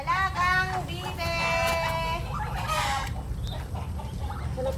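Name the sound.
pet ducks being fed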